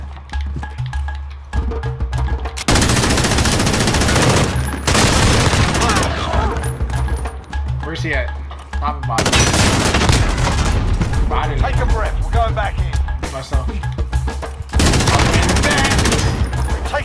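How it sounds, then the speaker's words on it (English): Bursts of rapid gunfire in Call of Duty: Modern Warfare online multiplayer crackle in long loud volleys, separated by brief quieter gaps, with heavy low rumble underneath. "Gunfire."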